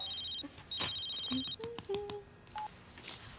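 A telephone gives several short electronic tones and rings, close and clear, with brief pauses between the beeps over quiet room background.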